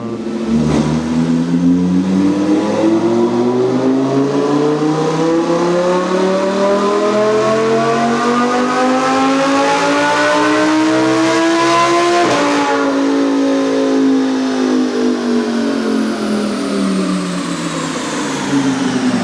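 An Audi R8 engine on a four-wheel dynamometer revs up steadily, climbing in pitch to a loud roar, briefly dropping at a shift, then pulling again, sustained and close.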